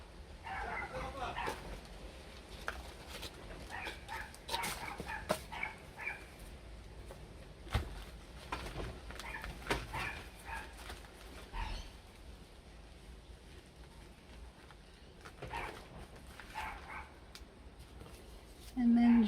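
A dog barks, yips and whimpers in short scattered bursts around a garden workspace while someone talks over it.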